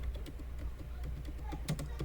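Keyboard typing while a product flyer is being designed on a computer, a sparse run of soft, close key taps with a louder cluster near the end, over faint room tone.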